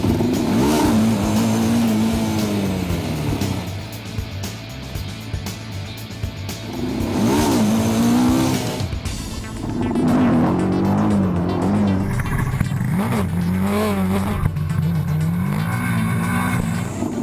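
Motorcycle engine revving hard during a wheelie practice session, loud and close, rising and falling in pitch through repeated throttle bursts with a sharp drop midway before building again; no speech.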